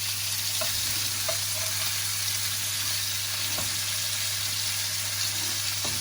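Butter melts and sizzles on mullet fillets under a grill, a steady close hiss that fills the whole stretch with a few faint ticks and pops and no talking.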